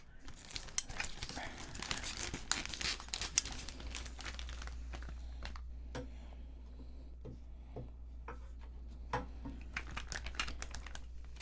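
Scissors cutting open a plastic Lego parts bag, with crinkling plastic and small snipping clicks, close and quiet, the busiest at the start and sparser afterward.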